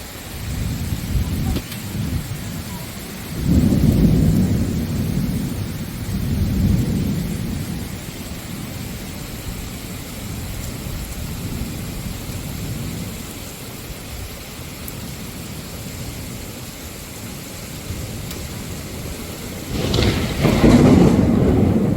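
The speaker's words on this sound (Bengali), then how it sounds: "শুরু হয়ে গেছে রোমেলের গর্জন" Thunder rumbles low and heavy over steady rain during a daytime storm as Cyclone Remal arrives, with a louder crack near the end of a continuous, enveloping downpour.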